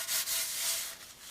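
A paper towel wipes burnt residue from a wok while a spring onion pancake is being fried, giving a steady, close, soft scraping rub that briefly catches and then continues without pause.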